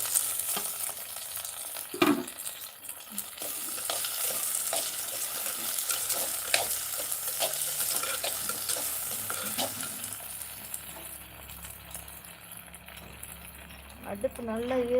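Okra sautéed with golden-browned onions in a pan. A continuous sizzle runs under busy, repeated stirring scrapes and light metallic rattles, with a voice faintly present at times.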